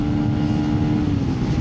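A Benelli BN125 125cc motorcycle engine, shifted down a gear on the road, drones steadily and loudly with a constant humming tone and no breaks.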